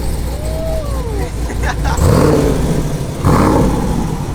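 A cammed Chevrolet Camaro with a new 3-inch Varex active exhaust revs loudly in two surges, nearby and rough, with chatter and background noise around it.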